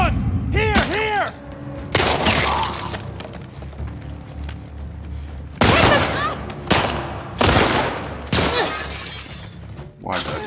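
Gunfire in The Last of Us Part II: sharp, loud shots burst out at irregular intervals across a tense firefight, with shattering impacts and a voice talking between the blasts.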